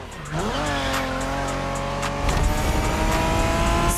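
A Honda NSX sports car engine in a racing video game revs up with a rising whine, holds a steady high drone, then snarls louder as tires squeal and the car accelerates hard.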